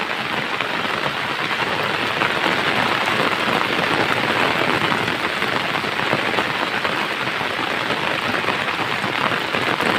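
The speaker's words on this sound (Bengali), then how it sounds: "ফুল বৃষ্টি পড়িতেছে" Heavy rain pours over a village river in a dense, loud, unbroken hiss of drops hitting water and nearby surfaces, steady and close for the whole stretch, with no voices.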